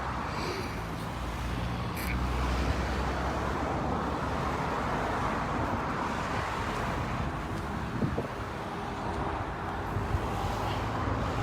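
Cars on the M20 near the Euro Tunnel, where police are letting blocks of traffic through during Brexit trial checks, give a steady, moderately distant broadband road rumble that holds evenly throughout, with no talking.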